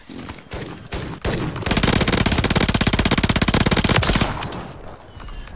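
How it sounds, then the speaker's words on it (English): Gunfire in Call of Duty: Warzone: a couple of separate sharp shots ring out first, then a sustained rapid burst of repeated loud reports fires for about two seconds before fading into quieter echoes. "I hear a shotgun."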